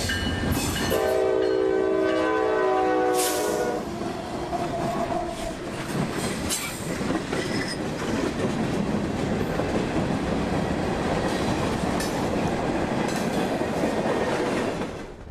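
Local freight train L769 rolls past close and loud, a long horn blast sounding early on, then steady rumble and rhythmic clatter of wheels and cars continuing without pause.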